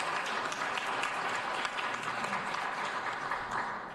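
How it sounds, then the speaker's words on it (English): An audience at a Los Angeles Police Commission community meeting gives a sustained round of applause, a dense, steady wash of many hands clapping that holds for several seconds. "So let's just give them a round of applause for coming out."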